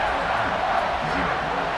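Stadium crowd roaring in College Football 26 before a kickoff, a dense, steady wash of cheering with a commentator's voice talking over it.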